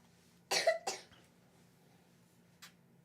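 Two quick coughs close together, then silence, followed by one faint short cough a moment later, near and fairly quiet.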